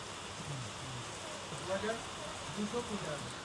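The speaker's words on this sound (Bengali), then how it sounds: "মুষলধারে বৃষ্টি চালু হয়ে গেল, দেখো।" Heavy rain pours steadily in a constant broadband hiss, with faint voices talking underneath.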